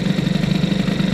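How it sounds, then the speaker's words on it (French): A Fox moped engine fitted with a Boost cylinder head runs freely at a steady, fast putter, loud and close with an even pulsing rhythm and no talk. "Que le moteur tourne librement"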